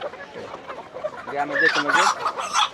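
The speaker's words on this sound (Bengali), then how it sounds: "এই সব দেশি মুরগি" Native (desi) chickens clucking and murmuring close by at a busy city market, rising into louder, busier clucks toward the end, with some voices mixed in.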